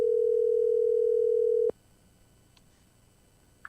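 A steady telephone line tone holds alone and loud for about a second and a half while a dropped call is dialed back, then cuts off abruptly, leaving faint line hiss and a tiny click.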